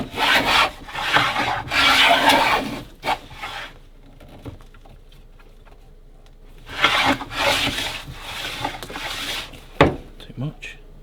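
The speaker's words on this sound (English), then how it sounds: "This blade needs sharpening a bit." A metal file rasps along a blade to sharpen it, in two bursts of repeated back-and-forth strokes separated by a quiet pause, close and fairly loud.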